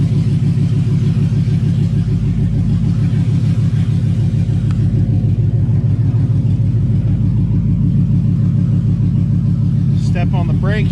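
A Chevrolet Camaro's LS engine runs at idle with a loud, steady, pulsing rumble, heard close. A brief high squeak comes near the end.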